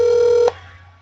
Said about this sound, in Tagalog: Tinatawagan ka namin.